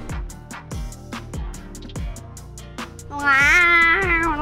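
Inside a cat cafe, a cat lets out one clear, drawn-out meow near the end, heard over steady rhythmic background music.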